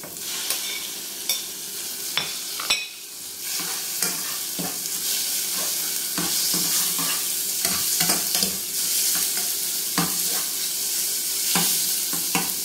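Onion and chicken fry in a pan for chicken asado siopao filling, with a steady sizzle broken by repeated sharp scrapes and clacks of a utensil stirring, fairly close and with no talk.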